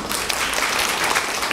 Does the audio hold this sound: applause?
yes